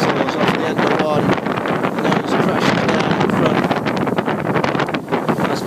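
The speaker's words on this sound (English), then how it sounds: "They're quite noisy, those waves, when you're inside." Water sloshes and slaps repeatedly against a boat hull at sea between Lanzarote and Madeira, heard from inside the cabin as a loud, restless wash with irregular knocks.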